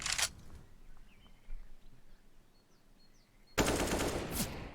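Pistol gunfire in a Counter-Strike match on the Inferno map: a sharp burst of shots at the start, then a long quiet stretch with faint chirps, followed by a dense loud volley of rapid shots near the end.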